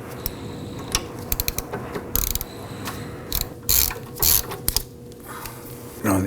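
A 14mm ratcheting gear wrench loosens a rear sway bar link nut on a 2005-2009 Subaru Legacy, giving close bursts of sharp clicking ratchet strokes separated by short pauses, with no talking.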